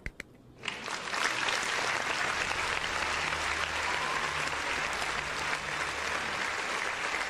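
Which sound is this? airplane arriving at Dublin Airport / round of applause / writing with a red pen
round of applause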